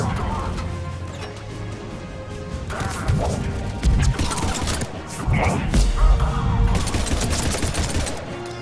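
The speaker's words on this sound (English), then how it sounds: "That's a grenade." Mass Effect 3 combat with crashing impacts, bursts of gunfire and a heavy blast, loud and chaotic, with voices talking over it.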